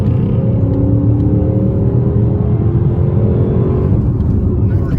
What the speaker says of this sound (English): So we're getting up to 100 and hitting the brakes.